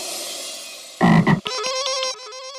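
A frog croaks in a short burst of loud, throaty calls, followed by a run of brighter rhythmic croaking tones that fade out, with no talking.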